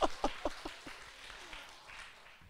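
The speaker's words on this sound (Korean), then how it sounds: "위로의 박수 한번 해줍시다." Church congregation at a Sunday service gives brief applause, a few loud distinct claps up front that quickly fade into softer scattered clapping.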